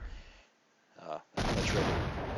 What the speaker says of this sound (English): And their mortar fire.